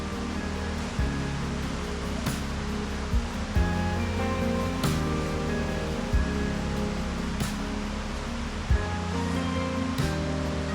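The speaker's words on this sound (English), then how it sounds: "What a beautiful river" A river flows through a Canadian cedar forest, its rushing water a constant broadband wash with small surges, close and loud with no voices.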